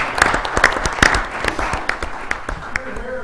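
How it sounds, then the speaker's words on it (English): Scattered, uneven clapping from a modest crowd at a city council meeting, individual claps audible as separate sharp hits rather than a dense roar. "extend them a round of applause"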